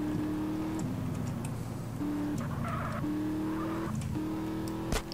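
Car driving in the MTA multiplayer game, a steady engine drone with gear-shift steps in pitch every second or so, brief tyre squeal and a sharp knock near the end, close and loud, no talk.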